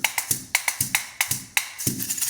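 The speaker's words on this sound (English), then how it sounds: "All it is just a stick with bottle caps nailed to it, and they call it a stump fiddle." Stump fiddle, a wooden stick with bottle caps nailed on, struck in a steady rhythmic pattern of sharp jingling taps, close and alone, about a dozen hits over a couple of seconds.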